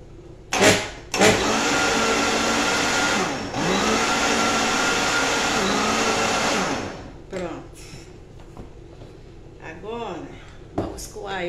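A blender whirs loudly for several seconds while blending green kale juice, then stops, with brief clattering bursts around it and voices talking afterward.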